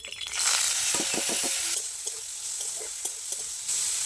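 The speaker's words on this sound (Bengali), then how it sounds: "এবার মাছগুলো ছেড়ে দেবো।" Fish pieces dropped into hot oil in a wok sizzle loudly and steadily, with a burst of spattering at the start and a few clicks of handling over the constant frying hiss; no speech.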